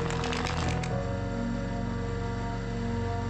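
Keys clatter rapidly on an old computer keyboard in a quick burst of close clicks during the first second, followed by a steady electronic hum.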